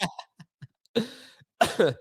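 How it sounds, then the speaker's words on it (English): Someone nearby coughs a few times in quick succession, with short throaty bursts and small breaths between them. "That cough isn't gone yet."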